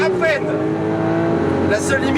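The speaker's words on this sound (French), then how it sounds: "Ce bruit du V12 est hallucinant." A Lamborghini Aventador V12 roars loudly and continuously at close range, its harmonic engine tone rising and falling under a speaking voice.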